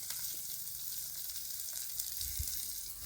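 Chopped onions fry in a pan for a moringa egg bhurji, a steady close sizzle that hisses on without a break, with a faint low stir or scrape near the end and no one speaking.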